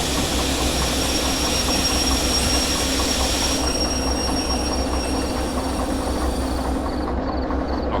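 A train brakes in Derail Valley, a steady loud rolling rumble of rail cars with a high squealing wheel tone running throughout, easing slightly near the end.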